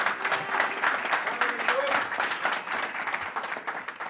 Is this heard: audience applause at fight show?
yes